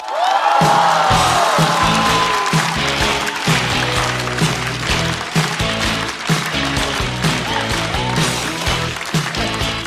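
Crowd applause and cheering at a stand-up comedy show greet a comedy duo as they come on stage, loud and sustained with whoops over steady clapping.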